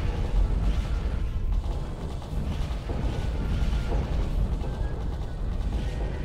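Rapid weapon fire in the space shooter Astromenace, a dense, continuous barrage of shots and impacts with a loud, steady roar and no talk.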